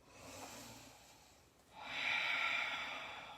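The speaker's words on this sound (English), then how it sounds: "Let's do like two more big breaths." Deep, slow breaths taken during an all-levels vinyasa yoga class, sounding as a soft breathy inhale followed by a louder, fuller exhale after a brief pause, close and alone with no talk.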